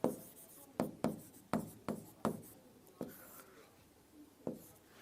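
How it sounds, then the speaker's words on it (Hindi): Chalk or marker writing on a board in a classroom: a quiet series of short scratching strokes in an irregular rhythm, fairly faint, with a soft voice murmuring at times. "मैं हाउस ऑफ कॉमन्स लिख देता हूं"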